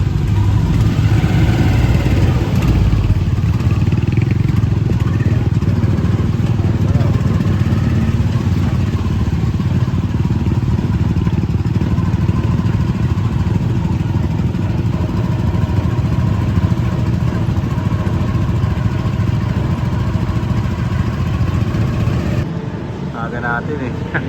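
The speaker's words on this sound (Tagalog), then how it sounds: "Sasakay ako na tricycle dun sa harapan." Motor tricycle engine running steadily through a ride, a loud continuous rumble with road clatter that dominates throughout, briefly dropping near the end.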